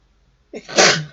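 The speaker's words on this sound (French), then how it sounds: "si j'éternue une fois, j'éternue 10 fois" A single sharp human sneeze, near and loud, with a short inhale before the burst and silence around it.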